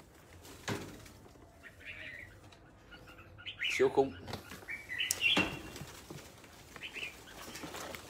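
A large pet bird flaps its wings in a few short bursts, with faint chirps and coos nearby and someone talking intermittently over the quiet background.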